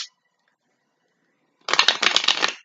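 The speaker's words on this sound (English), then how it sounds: "while I'm shuffling my deck" A deck of cards being shuffled close by, a short rapid riffle of flapping, clicking cards lasting about a second after a quiet pause, with no talking.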